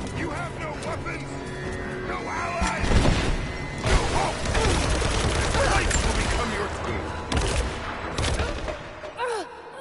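Rifle gunfire in Rise of the Tomb Raider cracks in sharp repeated bursts amid a busy game mix of explosions and shouting voices, loud and close, with sustained volleys around the middle.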